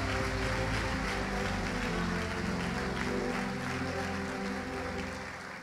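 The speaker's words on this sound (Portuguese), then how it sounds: "aplauda Jesus bem forte para a glória de Deus" A church congregation claps loudly and continuously for several seconds, a dense wash of applause that tapers slightly at the end.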